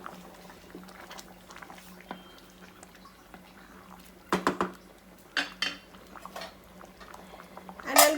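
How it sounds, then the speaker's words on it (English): Tomato rice bubbling in a pot on the stove, Karnataka-style cooking, with a faint steady simmer and a few soft metallic clinks of lid or utensil toward the end. "Okay, so it's boiling nicely."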